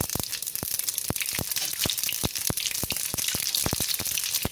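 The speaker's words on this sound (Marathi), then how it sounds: "तडका द्यायसाठी मी दोन पळ्या तेल घातलं आहे मस्त ते गरम झालं आहे आता तेल त्याच्यात आपण आता ही मोहरी टाकू" Mustard seeds crackling and popping in hot oil for a tadka, rapid irregular sharp pops over a soft continuous sizzle, close and loud with no talk.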